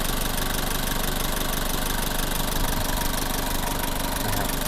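A 1999 Nissan Frontier pickup truck engine idles steadily with a low, rumbling knock and constant mechanical hum, close and continuous throughout.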